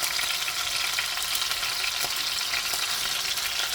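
Steady, loud sizzling of beef searing in a hot pan on medium-high heat for a braise, a continuous crackling hiss with occasional pops.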